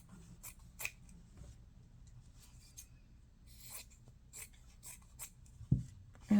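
Scissors snip through roof fabric for a small fabric house bookmark, a few quiet, scattered cuts and rustles at close range with no talking.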